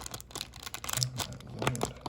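Scissors snip and crinkle through a MetaZoo Nightfall trading card blister pack, with a few close, crisp cuts and plastic rustles over about two seconds, no talking.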